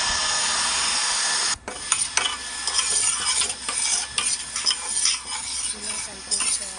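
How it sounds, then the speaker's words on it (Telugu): A spoon stirs a boiling herbal hair oil mixture in a pot, making continuous scraping and sizzling sounds with repeated metallic clinks after a brief pause near the start. "స్పూన్తో కలుపుతూనే ఉండాలి"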